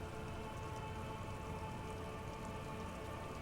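Steady, even rain falls as ambient weather in the video game Disco Elysium, a soft continuous patter of drops on surfaces with no voices.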